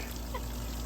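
Water leaked from a faulty dishwasher pours and trickles out from beneath the appliance in a steady, close, continuous stream with no talking.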